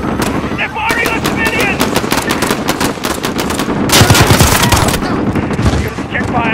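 Automatic weapons rattle in Call of Duty: Modern Warfare, sustained loud bursts of rapid gunfire with a heavier volley midway, and voices call out faintly beneath the shooting.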